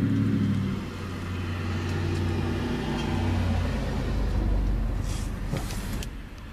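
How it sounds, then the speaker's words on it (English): A truck drives past outside, its low engine rumble rising and fading across several seconds at a moderate distance. "The truck just drove by again"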